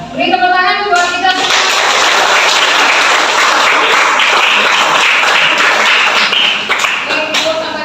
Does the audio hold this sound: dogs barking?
no